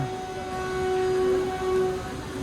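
Steady rumble of a train arriving at a large station, with a sustained tonal whine running throughout, fairly loud and continuous, no voices.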